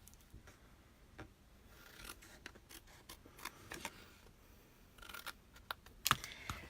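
Scissors snipping through a scored paper piece for a cow craft, with quiet, close, irregular cuts and rustles, faint and alone.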